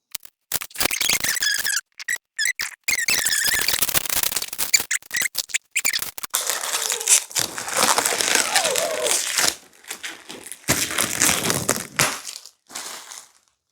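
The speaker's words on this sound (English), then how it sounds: "Remove film from panels and glass door" Protective plastic film stripped from the panels and glass door of a crested gecko enclosure, heard up close as long crackling, squeaky peeling runs with short gaps between pulls.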